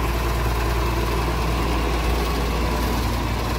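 A tractor engine idles steadily while hitched to a feed grinder on a farm, a low, even rumble with faint vibration that runs unbroken and fairly close throughout, with no talk over it.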